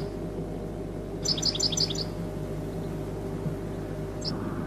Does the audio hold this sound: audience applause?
no